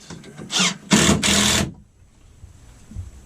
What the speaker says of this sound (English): we're using 3-inch Torx head screws to fasten to the wall here, as well as my impact